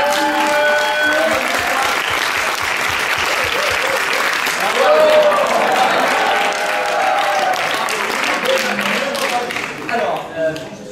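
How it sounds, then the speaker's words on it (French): Sustained audience applause for improv performers during a live improvisation match at a festival, dense and steady throughout with crowd noise and some voices mixed in. "on peut les applaudir parce qu'ils essaient très fort"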